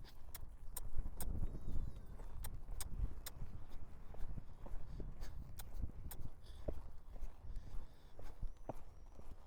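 Faint rhythmic hoofbeats of a horse trotting on firm ground, steady clip-clop taps repeating at an even pace.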